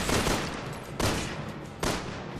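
Rapid bursts of gunfire from the Resident Evil 6 video game, three loud volleys in quick succession, each dense crackling barrage fading slightly before the next begins.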